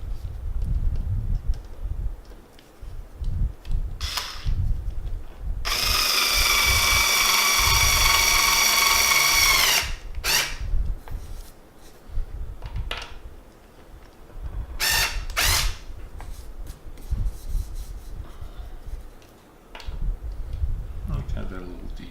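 A power drill driving a screw into a countersunk hole on a wooden scene base: a sustained whirring burst of several seconds, plus brief short drill pulses before and after, close, with a person talking quietly between bursts.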